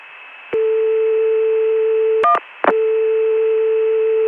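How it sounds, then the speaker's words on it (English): Dial tone on the ConTelNet CCSA telephone network, broken by a couple of short dialing tone bursts, then a steady tone resuming, clear and close on the line. "I had the ConTelNet do it twice by dialing 288-1111, then I dialed 1 and it did it again"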